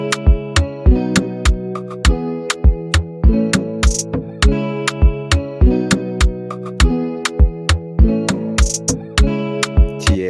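Afrobeat drum loop programmed in FL Studio, with a steady four-on-the-floor kick thumping under crisp hi-hats, snappy percussion hits and a tonal bass layer, looping evenly and clearly with no voice.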